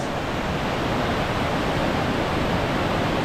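A continuous, even rush of water from small, roughly 15-foot waterfalls on the Wahclella Falls Trail in the Columbia River Gorge, close and loud, unbroken throughout and without any talking.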